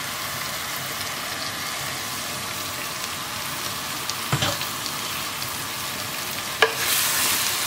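Pork sorpotel masala frying in a pan, giving a steady hissing sizzle with a couple of brief clatters from stirring.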